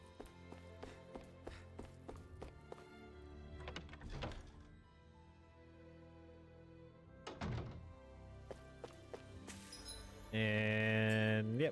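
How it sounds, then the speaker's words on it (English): In a video game, hammers bang away in quiet, irregular clusters of hollow knocks and thunks, repeating in bursts with short pauses, before a louder tonal sound swells at the end. "love the sound of hammers banging away"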